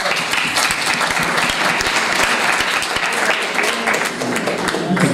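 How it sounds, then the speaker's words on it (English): Dense, loud applause from a young audience at a political parties dialogue event, continuous clapping filling the whole stretch. "You can see lots of young hands clapping here."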